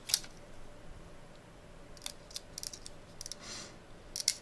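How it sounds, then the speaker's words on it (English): A Samsung S20 Plus smartphone camera fires several short, crisp shutter clicks in a quiet room, scattered unevenly, with a pair of brighter clicks near the start and end. "Yeah, shutter noise in Japan,"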